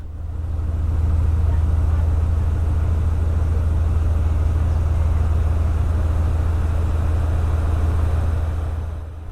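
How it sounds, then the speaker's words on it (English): A narrowboat engine chugs steadily on the Llangollen canal, a loud, deep continuous drone heard close up from the stern, rising in at the start and fading slightly at the end. "My engine is quite noisy."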